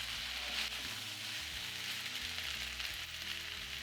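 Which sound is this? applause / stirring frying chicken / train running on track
stirring frying chicken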